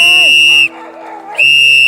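A loud, shrill whistle blasts twice on a hiking trail to scare off a bear, close up, with a short gap between the blasts.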